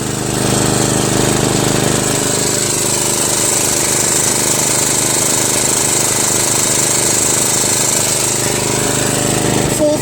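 A Murray Select 13.5 riding mower with a 40-inch deck and a Briggs & Stratton flathead engine with a stripped head bolt runs at full throttle, close and loud, giving a continuous, even, rattling drone without a break.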